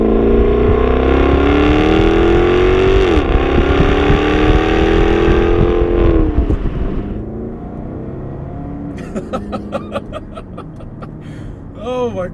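A 2012 Jaguar XKR-S with 550 horsepower revs loudly up close, its engine note climbing and holding steady before dropping away to a lower idle, with voices and laughter underneath.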